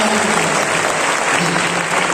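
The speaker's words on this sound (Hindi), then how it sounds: "सुनना चाहे तो जोरदार तालियां बजाओ" Loud, continuous applause from a large audience at a World Hindi Day poetry recitation, steady clapping filling the whole stretch without a break.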